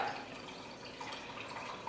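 Water from a tap runs steadily into a bottle, a faint continuous hiss and trickle at low level with no voices.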